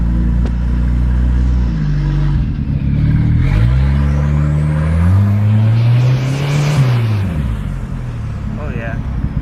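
A Volvo 760 Turbo engine revs hard under boost, the loud, close engine note climbing and falling through several surges, while someone talks over it.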